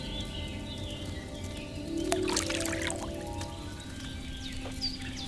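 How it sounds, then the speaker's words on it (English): Wine poured into a cauldron in Kingdom Come Deliverance 2, a brief trickling splash rising midway, set against a steady ambient bed with birdsong and soft drips. "First, you have to pour the right base into the cauldron."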